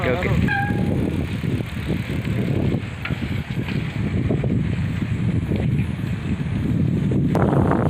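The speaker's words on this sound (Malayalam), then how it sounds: "ഇപ്പം നമ്മൾ നൈറ്റ് തിരിച്ച് റൈഡ് ചെയ്തുകൊണ്ടിരിക്കുവാണ് വീട്ടിലേക്ക്" Bicycle ridden home at night, with steady rolling road noise and wind rushing past the microphone through the whole stretch.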